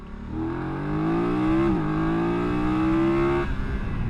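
A BMW F900GS Adventure motorcycle accelerates hard. The close, loud engine note climbs steadily, drops briefly at a gear change, then climbs again before backing off.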